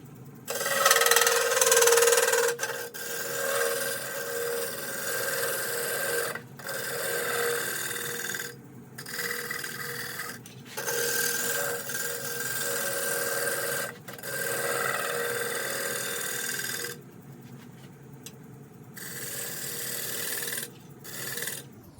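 Wood lathe turning an 8x4 black cherry bowl, a continuous bright scraping rasp of the tool cutting the spinning wood, broken by several brief pauses, with no talk.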